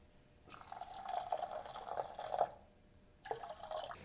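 Water is poured into a pot of boiling beans on a stove, a bubbling, dripping liquid sound lasting about two seconds, pausing, then resuming briefly at moderate closeness.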